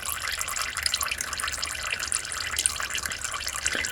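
Transmission fluid drains from a 2000 Acura 3.2 TL during a fluid change, a steady close trickling and splashing liquid sound that continues without pause.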